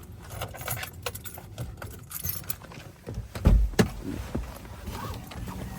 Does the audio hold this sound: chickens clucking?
no